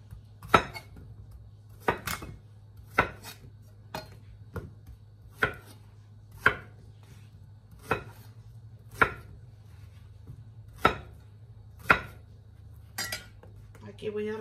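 A knife chopping zucchini on a board, about a dozen crisp, evenly spaced knocks close by over a low steady hum, with no talking.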